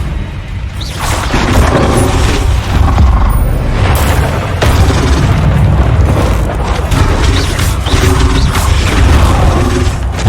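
Confringo and Bombarda spell blasts in Hogwarts Legacy boom one after another in a loud, dense run of explosions and crashing impacts, with rumbling debris between hits and no talk.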